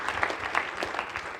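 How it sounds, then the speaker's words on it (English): Audience applause at a debate event, a thin patter of claps from a modest crowd heard at some distance, brief and fairly even with a few louder individual claps. "Give him a nice round of applause once again"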